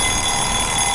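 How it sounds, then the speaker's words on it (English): A timer alarm goes off during a Total War: Shogun 2 Fall of the Samurai game session, a loud, continuous, shrill electronic ringing that fills the whole moment with no voices. "Didn't know that my timer made a noise whenever it's done"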